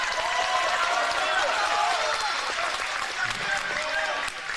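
Enthusiastic crowd applause and cheering in a packed gym at a high school wrestling match, St. Paul's home crowd, sustained clapping throughout with a slight drop at the very end.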